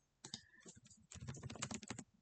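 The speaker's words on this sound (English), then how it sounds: "Sorry if you hear some typing in the background." Someone types on a computer keyboard in the background of a custom Magic card game match, giving two quick bursts of soft, rapid key clicks, the second longer and denser, with no talk.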